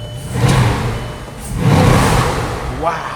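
A Rembrandt Bugatti's engine revs while the car stands still, with two deep, loud swells of power rising and falling close by, and a voice briefly exclaims over the roar.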